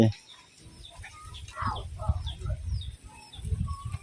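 Chickens cluck and chirp around a wooden village coop in rural Savannakhet, Laos, in short scattered calls with low rustling and movement, while a person speaks nearby.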